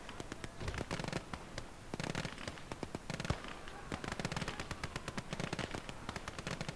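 Machine gun fire in the World War II strategy game Gates of Hell, with dense rapid bursts of shots crackling continuously from a trench, joined by scattered heavier bangs in a busy, fairly distant battle.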